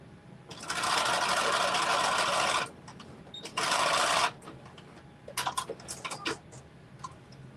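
Sewing machine running a stitch on jeans, two steady bursts of fast rattling stitching, the first longer, followed by a few light clicks of the machine as it stops.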